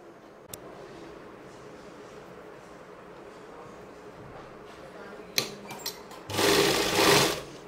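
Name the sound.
sewing machine stitching fabric of a pregnancy dress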